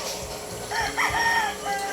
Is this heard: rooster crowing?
yes